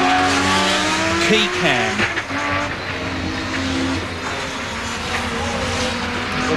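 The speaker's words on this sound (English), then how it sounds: "Noisy gearbox in the Nissan, clunk, clunk, clunk." A Nissan touring car, one with a noisy, clunking gearbox, races in the 1989 Australian Touring Car Championship round at Mallala. Its engine roars loud and close, with a brief tire squeal, under a commentator's voice.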